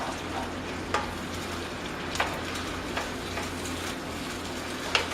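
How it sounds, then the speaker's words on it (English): Tomatoes frying in olive oil over high heat give a steady soft sizzle, with a spoon tapping and scraping the pan now and then, close and without talk. "Want to get it on a little high heat. Get those tomatoes cooking."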